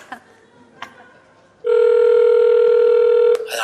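Telephone tones from a played phone message: a couple of faint clicks and short beeps, then a loud steady electronic tone held for nearly two seconds before cutting off into faint background noise.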